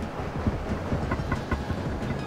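A train rides along the tracks in the video game Demon Turf, a steady rumbling run with a regular clickety-clack rhythm throughout, close and fairly loud.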